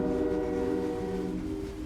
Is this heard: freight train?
yes